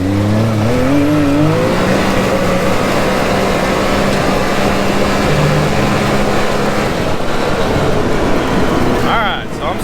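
A Can-Am Maverick X3 XRS turbo side-by-side fitted with a cat delete mid pipe accelerating hard from a launch, its engine rising in pitch and holding a loud, close, roaring drone before easing off at the end.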